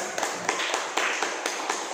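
Children in a primary-school classroom clap for a classmate, a short burst of quick, fairly even claps close by, with no voices over them.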